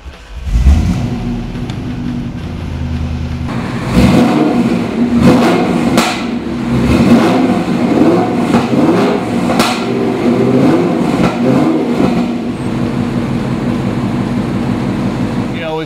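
A 1990 Chevrolet Corvette ZR1 V8 cranks and catches, then idles loudly nearby with several sharp throttle blips rising and falling over a steady engine rumble.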